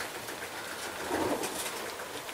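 Racing pigeons in a loft give a soft, low coo about midway through, faint against a steady background hiss, with no talking.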